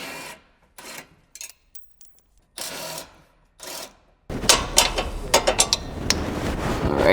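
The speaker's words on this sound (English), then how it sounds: "we're going to take a 10mm and take out the 2 bolts on this side of the radiator support" Metal-on-metal ratcheting and scraping from a 10mm wrench loosening two radiator support bolts on a Ford Focus ST, heard in short separate bursts and then a louder, busier stretch of clicking and rubbing close by.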